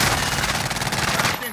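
Sustained automatic gunfire in Call of Duty: Modern Warfare, a loud, dense stream of rapid shots that rattles on for the whole stretch without a break.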